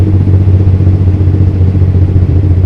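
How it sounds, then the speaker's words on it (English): Jake brake on a truck with an Eaton Fuller 18-speed transmission: a loud, continuous low engine rumble with a steady drone and rough, rapid pulsing, close and unbroken throughout, with no talk. "By the way, I love the sound of the Jake's brake"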